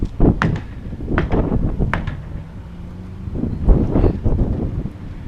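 Breezy wind gusting across a house building site, a rough low rumble buffeting the microphone in waves, with a few sharp knocks and bumps mixed in, no talk.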